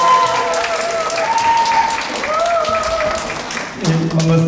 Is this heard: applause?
yes